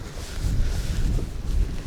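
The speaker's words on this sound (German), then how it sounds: "Ja, der Wind bläst das Ganze." Wind gusting across a microphone outdoors at Icelandic hot springs on a rainy day, a low rumbling buffet that swells and dips continuously for two seconds.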